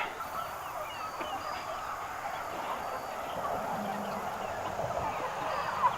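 Faint, continuous clucking and chatter from a group of meat chickens, with a soft background hum.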